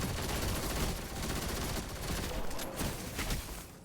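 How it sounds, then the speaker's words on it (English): Sustained machine gun fire from the Destiny 2 video game, a dense continuous roar of rapid shots filling the whole stretch without pause. "I'm just going to bust out my machine gun"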